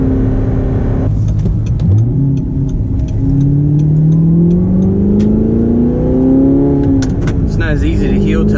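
An Audi R8 engine revs and pulls up through the gears while driving, a loud steady drone rising in pitch with a brief lift near the end, heard from inside the car with some talk over it.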